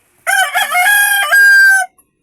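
A rooster crows once, loud and close, a single long harsh call rising and holding before it breaks off, at a poultry sale in Taytay, Rizal.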